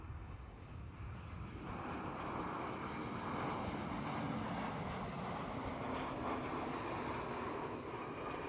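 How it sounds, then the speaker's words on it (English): Steady broadband roar of an EasyJet Airbus A320 jet at Schiphol, loud and continuous throughout with a gradual swell, wind buffeting the microphone, no voices. "EasyJet, Airbus A320."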